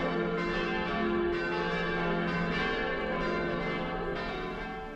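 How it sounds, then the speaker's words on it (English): Church bells pealing in Zermatt, Switzerland on a Saturday evening, a continuous dense wash of overlapping bell tones sustained steadily throughout, heard from a distance with no voices. "every Saturday at 6:45 p.m. we have the churches ring the bells for 15 minutes."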